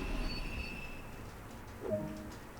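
A Long Island Rail Road M7 electric train in Train Sim World brakes to a halt, with a steady low rumble, a thin high whine and a short squeal near the end, heard alone without voices.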